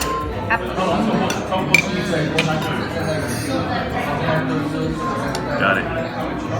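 A spoon stirs Thai soup in a bowl at a one-Michelin-star Thai restaurant, giving light, scattered clinks against the dish beneath steady dining-room chatter and nearby voices.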